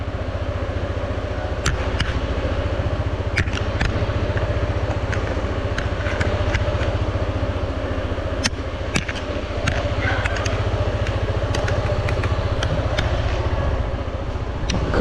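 A motorcycle engine runs steadily at close range, a continuous low idling drone with occasional sharp ticks and clicks over it and no speech.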